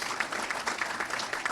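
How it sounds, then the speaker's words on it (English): An audience at a senior police academy graduation claps, producing a brief burst of dense, even applause that is moderately distant and quiet. "These guys deserve a great round of applause."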